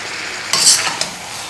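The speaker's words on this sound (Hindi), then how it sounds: "इस टाइम पर हमने गोभी डाल देनी है जो हमने उबाल के रखी थी" Boiled cauliflower goes into sizzling masala in a karahi and is stirred, giving a short bright splash and hiss followed by a second quick scrape, close and loud.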